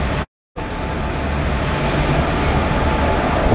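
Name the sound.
18409 Sri Jagannath Express train arriving at platform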